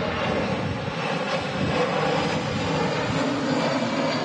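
An EasyJet airliner takes off from Manchester Airport, its engine roar a steady, loud, broad rumble throughout, with no talking.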